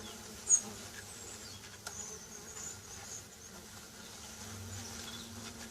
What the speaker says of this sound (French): Vous voyez, un autre frelon est arrivé là.